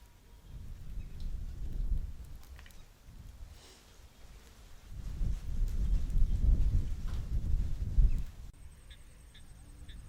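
Steady rain hisses in the background while deep rumbling swells rise and fade, like distant thunder.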